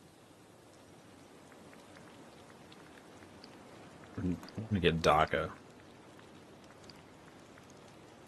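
Rain falls in the Disney Dreamlight Valley video game, a soft, steady patter under the whole stretch, while someone talks briefly in the middle.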